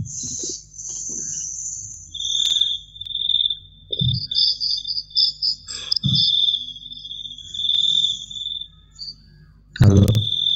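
Crickets chirping on a quiet night, with steady high trilling pulses and intermittent chirps, while low, brief voices and bumps sound now and then underneath.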